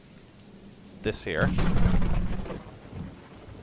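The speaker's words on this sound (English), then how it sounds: "Bad thunderstorm. Imagine it's gonna be storming the whole time I'm here." Rumbling thunderstorm in the horror video game Choo Choo Charles, a low rolling thunder crash swelling after a second and fading over steady rain, with someone speaking briefly over it.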